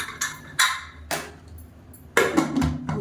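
A metal pressure cooker lid is handled and clanked shut over green rice with carrot and beans, giving several sharp, separate knocks followed by a louder cluster of clanks.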